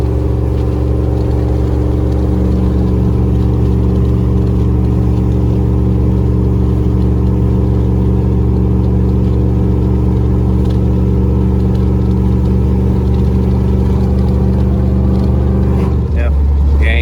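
An LQ4 6.0 V8 in a truck with a Truck Norris cam drones steadily as it pulls a trailer uphill, a loud, even engine hum that holds for a long stretch, then shifts near the end as the throttle eases.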